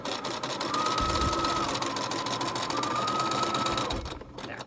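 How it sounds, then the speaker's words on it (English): Home sewing machine running a basic zigzag stitch while seaming a wrap dress sleeve, a steady close whirring hum with a fast rhythmic stitching pulse that runs for about four seconds and then cuts off. "I'm going to change my sewing machine to just a basic zigzag"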